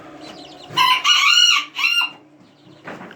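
A young rooster crows nearby in a short, cracking, uneven call split into two bursts, followed by a soft cluck.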